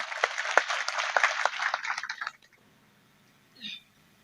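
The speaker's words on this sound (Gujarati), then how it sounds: "તાળીઓથી વધાવો" Applause for a donor at a Ramapir satsang, a dense burst of clapping from the gathered audience lasting about two seconds, then fading out into near silence with a brief faint sound afterward.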